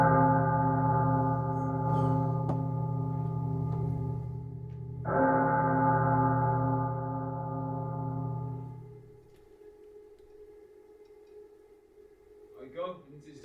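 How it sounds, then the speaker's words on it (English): A deep church-style bell tolls in a staged Macbeth production, two long resonant strikes whose rich ringing decays slowly before fading into near silence, with a faint noise at the end. "The bell invites me."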